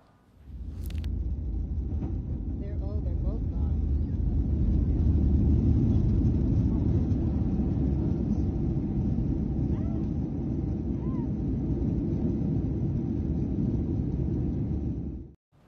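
A Boeing 737 on takeoff from Denver to Houston roars with a loud, sustained, deep engine rumble that holds steady for about fifteen seconds before cutting off abruptly.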